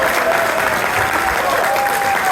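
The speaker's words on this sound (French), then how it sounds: "Et rien que pour ça, vous pouvez vous applaudir." An audience at a celebration applauds loudly and continuously, dense clapping with some crowd voices mixed in and a faint tonal hum beneath.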